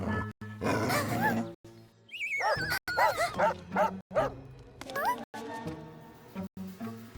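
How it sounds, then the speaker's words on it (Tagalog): A dog barks and yips in short bursts with whimpering, over a busy background of voices and music; the barks sound agitated rather than playful. "Oh, isang galit na aso."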